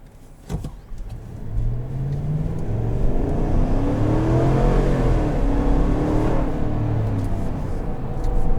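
A 2021 Chevrolet Tahoe LT in sport mode revs up and accelerates steadily, single-pipe exhaust droning and rising in pitch for several seconds, loud and close with no talking.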